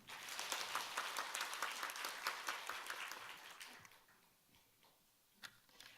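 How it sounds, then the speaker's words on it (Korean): A church congregation applauds a testimony speaker at a graduation service: fairly faint, steady clapping for about three and a half seconds, then it dies away into near silence with a stray clap or two. "큰 박수 부탁드립니다."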